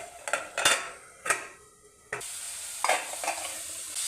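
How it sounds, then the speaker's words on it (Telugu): Metal cooking-pot lid clanks down during mutton curry prep, several sharp clinks and rattles close by, followed by a steady sizzle of frying. "మూతేసేద్దాం ఫ్రెండ్స్."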